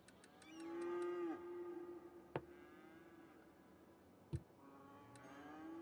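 Cattle at a cattle shed in the Cities: Skylines game (PS4 edition) give a long, clear moo over a low ambient bed, with a couple of sharp ticks and clicks from the game interface.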